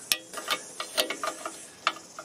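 A socket wrench ratcheting on 15mm nuts during gearbox and clutch removal on a BMW 318iS e36, with a close, quiet series of uneven clicking ticks and metallic knocks.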